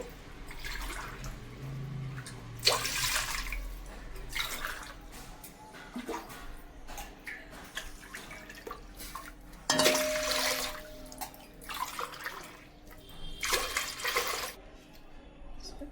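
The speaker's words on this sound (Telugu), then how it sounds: "4 గ్లాసులు వాటర్ అనేది యాడ్ చేస్తున్నానండి." Water pouring from a glass into a pot holding semolina for papad batter, in a home kitchen: a few splashing bursts with quieter trickles and drips between them, near and moderately loud.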